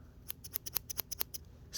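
Scissors on a Gerber Diesel multi-plier snip repeatedly, a quick run of about a dozen crisp, close metallic clicks in a brief burst.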